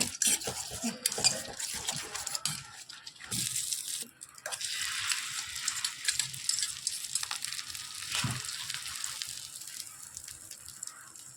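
Egg omelette batter being mixed with Lay's potato chips in a bowl, irregular clinks and scrapes of a spoon against the dish with brief pauses, close and fairly quiet.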